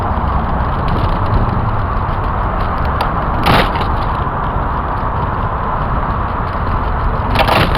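A car passing on a road near a cyclist, a broad steady rumble of tyres and engine that swells briefly in the middle and again near the end, with no talking.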